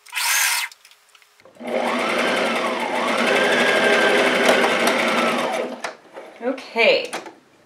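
A sewing machine stitches down the neck seam of a dress in a steady whirring run of a few seconds, framed by brief talk before and after.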